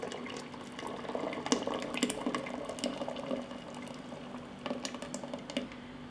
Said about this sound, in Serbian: I usitnjenu šljivu vraćam u vodu u kojoj se kuvala.